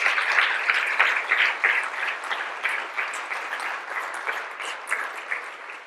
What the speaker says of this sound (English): Can I have a warm round of applause for our panelists